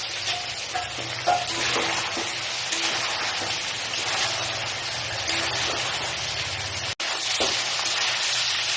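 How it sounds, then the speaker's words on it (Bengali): Cauliflower, potato and soybean sautéing with spices in a pan, giving a steady close sizzle with occasional stirring scrapes, continuous throughout with one brief dropout near the end. "খুব সুন্দর করে কষে নিচ্ছি"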